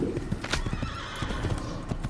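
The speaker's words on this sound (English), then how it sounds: "No, I want this horse." A horse in the Assassin's Creed video game clip-clops with quick hoofbeats and lets out a brief neigh, all close and fairly loud.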